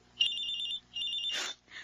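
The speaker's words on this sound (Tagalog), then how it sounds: "Ay, may tumatawag sa cellphone." A cellphone rings with two bursts of a bright electronic trill separated by a short pause, followed by a brief rustle, heard alone and fairly clear.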